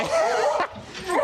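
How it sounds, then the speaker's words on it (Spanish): A small dog gives a couple of short, high, yelping barks with whiny tones, close by, with a brief pause between bursts. "tenemos un perrillo que es aficionado a las carreras de caballo"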